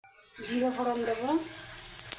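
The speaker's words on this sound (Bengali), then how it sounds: "জিরে ফোড়ন দেবো," Cumin seeds hit hot oil with a sudden sizzle that keeps crackling while a voice speaks over it.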